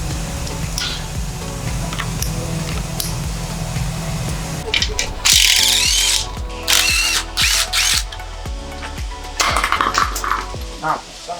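Socket ratchet wrench clicking in quick, uneven runs while a water-damaged Jeep Grand Cherokee Trackhawk is rebuilt, with a few louder harsh metallic bursts partway through and a person talking intermittently under the tool noise.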